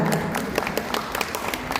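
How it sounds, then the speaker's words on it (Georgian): An audience applauds at a preschool musical: a steady patter of many hands clapping, with sharper individual claps standing out, close and fairly loud, running the whole short stretch without talk. "ოვაციები გავაცილოთ"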